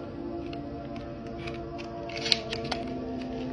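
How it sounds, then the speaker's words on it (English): The end of a miswak stick is bitten and chewed about an inch from the top, making close, soft crunching and fibrous cracking snaps, with a couple of sharper crisp bites near the end over quiet background hum. "you want to start biting around, I'd say about an inch from the top"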